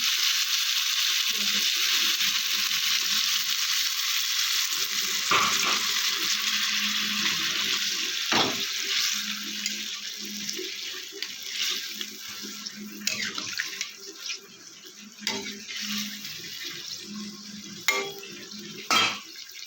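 Water is poured into a hot pan of vegetarian jackfruit curry, giving a loud, continuous sizzling hiss that slowly settles into a softer simmering bubble with a few clinks of utensils.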